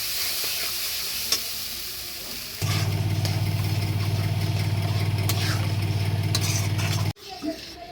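Spice paste with turmeric frying and being stirred in a pan for jackfruit kofta curry, a steady close sizzle with a low hum joining partway, then cutting off sharply near the end.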